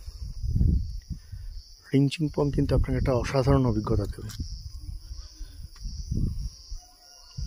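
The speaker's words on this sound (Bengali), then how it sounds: "শুধুমাত্র ঝিঝি পোকার ডাক" Crickets chirp in the Rinchenpong countryside of Sikkim, a thin continuous high-pitched trill that runs throughout, while a person speaks over it in the middle.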